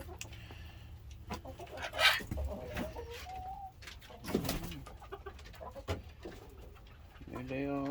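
Pet ducks and other birds kept in a backyard flock, clucking, cooing and quacking close by in overlapping bursts, with some talk.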